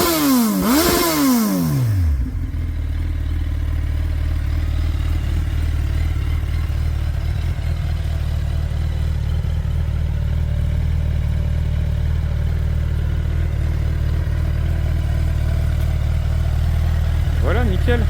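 A Suzuki B-King motorcycle with a Hayabusa engine blips its throttle once, then idles loudly and steadily close by, a deep even rumble that holds until a brief rev at the end.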